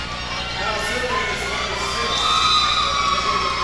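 A high school volleyball crowd cheers and shouts loudly for a player stepping in to serve, with young voices whooping over a steady roar of the gym.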